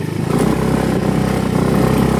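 A modified motorcycle rides along with a loud, steady engine drone and rattle, continuous and close throughout.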